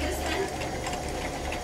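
Sewing machine running steadily while stitching seam-taped fabric, a dense continuous whirring hum at moderate level with a voice talking faintly underneath.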